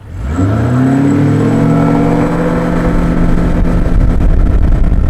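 A tin boat's outboard engine accelerates out of the hole, its loud, close roar climbing steeply in pitch, then holding a strong, steady drone at speed, with no talk over it.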